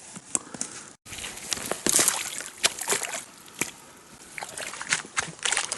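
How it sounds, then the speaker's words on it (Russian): Someone wades across a small shallow forest stream on a hunting and fishing trip in autumn heat, water sloshing and splashing with each step, close and fairly loud in an uneven rhythm. "Учитывая, что маленький ручей, переходим ручей вброд."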